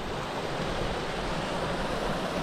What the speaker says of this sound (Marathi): तिथून एक धबधबा पडतोय